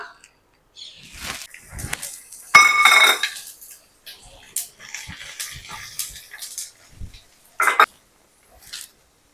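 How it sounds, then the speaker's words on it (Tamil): Irregular crackling and sharp popping from vadagam, sun-dried crisps, frying in hot sesame oil, sputtering in scattered bursts with brief quiet gaps. "வடகம் இந்த வெடிப்பு சடச்சடன்னு வெடிக்கும்"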